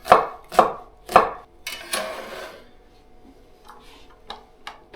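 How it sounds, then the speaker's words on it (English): A knife dices bell pepper on a cutting board during home meal prep, three crisp evenly spaced chops followed by a few rougher cuts and then lighter, sparser taps. "And then the bell pepper I'll dice for things like my tacos and also stir fry."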